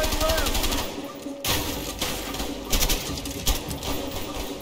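Video game gunfire in A Way Out: bursts of rapid, machine-gun-like shots with sharp cracks, continuous and loud, mixed with game ambience.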